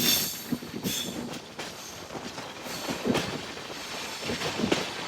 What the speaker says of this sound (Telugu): ఇప్పుడు మన ట్రైన్ డైవర్ట్ తీసుకుంటుంది చిత్తూరు పాకాల తిరుపతి వైపు.